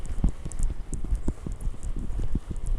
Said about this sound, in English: It seems that we have a herd of goats